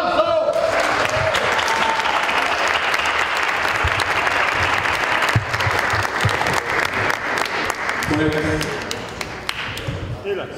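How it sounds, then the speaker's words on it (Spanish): Sustained, dense applause from an audience at a memorial tribute to a poet, loud and steady for about ten seconds, with voices murmuring underneath and a few tonal sounds near the end as it begins to fade. "¡Aplausos!"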